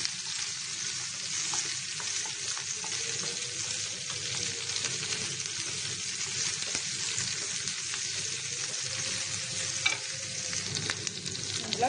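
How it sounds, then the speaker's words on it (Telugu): Capsicum and onion pieces sizzle steadily in a pan for Chicken Manchurian while being stirred, with a constant frying hiss and occasional scrape of the spoon, close and continuous with no talking. "వేసుకొని బాగా కలుపుకోవాలి."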